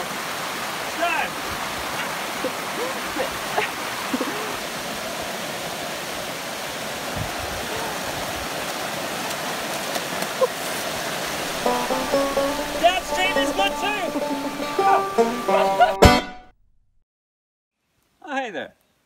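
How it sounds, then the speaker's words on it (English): Rushing water from a waterfall in the Australian Alps gives a steady broadband roar for most of the stretch, with splashing and voices rising near the end before an abrupt cutoff. "now we're gonna swim up this waterfall"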